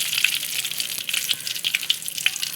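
Chopped onion hisses in hot oil with mustard seeds and curry leaves, making a bright, continuous frying sizzle scattered with sharp little pops and crackles, close up and with no voices.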